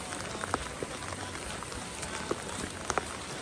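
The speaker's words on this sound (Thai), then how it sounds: "นี่ฝนกันอีกแล้ว" Steady rain patters on a surface, a continuous hiss with occasional louder drops and taps scattered through it.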